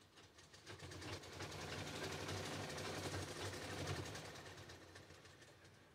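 A sewing machine stitching during a tailoring class, a soft continuous mechanical hum and rapid rhythmic chatter that swells and eases slightly, fairly faint and close.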